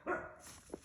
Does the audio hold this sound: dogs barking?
yes